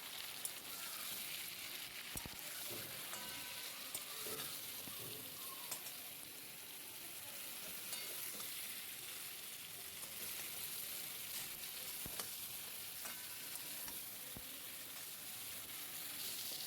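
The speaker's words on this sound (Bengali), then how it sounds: "তিন চার মিনিট বেগুনটা ভেজে নিতে হবে।" Eggplant frying in oil with salt and turmeric, a faint, even hiss of sizzling that carries on steadily with an occasional soft tap or pop.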